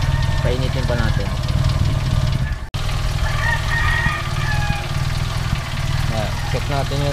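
A car engine idles at low RPM while warming up after an air-fuel mixture screw adjustment, a steady low rumble throughout with chickens clucking nearby and a brief dropout midway.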